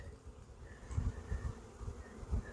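A colony of honeybees, weakened over winter by mites, hums from an opened hive at spring inspection, a dense low buzz with uneven swells and soft knocks throughout.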